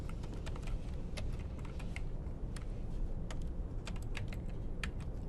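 Typing on a computer keyboard, with sharp key clicks in an uneven rhythm over a steady low hum and background rumble.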